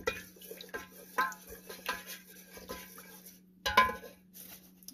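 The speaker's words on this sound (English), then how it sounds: "So give it a good stir." A spoon stirring warm melted soy wax in a container, giving soft scraping and clinking strokes at an irregular pace, fairly close and quiet, with a steady low hum underneath.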